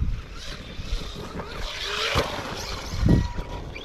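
An Arrma Vorteks RC car runs its motor on a 2S battery outdoors, giving a fluctuating whine over steady wind and rushing noise, with a brief louder surge near the end.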